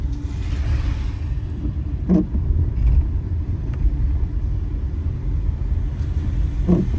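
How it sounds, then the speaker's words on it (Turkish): Steady low road rumble from dense traffic in Odabaşı, Antakya, Hatay, heard near a car's open window as vehicles roll past, with a couple of brief louder passes and no talk. "Gayet yoğun bir trafik mevcut."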